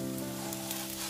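Leek and seafood pancake batter frying in hot oil in a pan, a steady close sizzle that runs unbroken with no talking.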